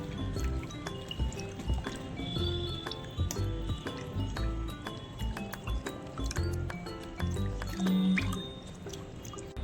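Ice cream base ingredients are stirred together with alginate powder in a bowl, producing soft, wet squishing and light clinking at close range.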